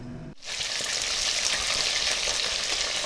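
Chicken wings crackle and sizzle steadily in a hot pan, a dense, loud frying hiss that holds without a break after a brief pause at the start.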